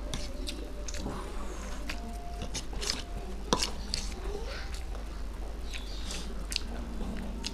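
Chewing and biting on Maggi noodles, boiled eggs and chicken lollipops during an Indian street food eating challenge, with soft wet mouth sounds and occasional crunchy bites over a steady low background hum, no talking.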